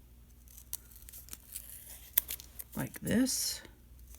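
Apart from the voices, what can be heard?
scissors cutting a half circle in folded paper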